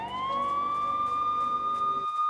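A wailing electronic siren from the Siren Head video game rises and holds a steady high tone, loud and alone, with a low hum cutting out near the end.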